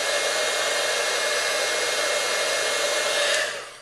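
Heat embossing tool blowing steadily on a card, a constant loud airy whoosh like a hair dryer that runs unbroken for over three seconds, then switches off and fades at the end.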